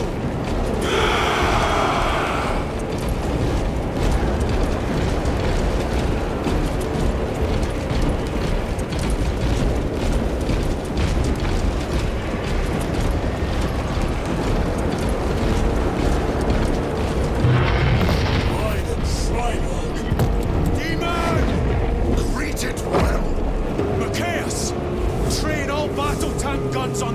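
Battle in Warhammer 40k Space Marine 2: a dense, continuous roar of gunfire and rumbling explosions with heavy booms, loud and sustained, and voices shouting at moments.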